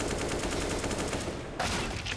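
Rapid gunfire rattles through a Counter-Strike match at an ESL Pro League event, with dense repeated shots filling the moment and a sharper burst near the end.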